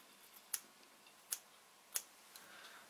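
Scissors trimming waistcoat fabric: three sharp, crisp snips spaced about a second apart, close and fairly quiet with no talking.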